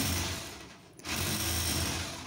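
A weak-running Dewalt D25123 rotary hammer drill with a chisel bit runs with a steady, gritty mechanical rattle and hum, dips for a moment, then picks back up at a constant level.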